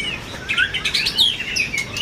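A murai batu, a Medan magpie robin, sings a bright run of varied whistles and quick chirps, close and clear, with several rising and falling phrases across two seconds and no talking.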